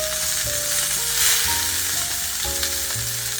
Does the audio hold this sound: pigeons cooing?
no